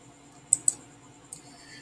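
Two quick, close mouse clicks close together, followed by a fainter single click, while choosing the Google Apps menu and Classroom on a computer in a quiet room.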